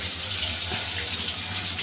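Tap water runs steadily into a kitchen sink while coral fish is washed with salt, a continuous close hiss with no voices.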